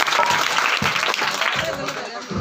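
An audience at a Teachers' Day event applauds for the teachers, a dense burst of clapping that holds across the moment and tapers slightly toward the end.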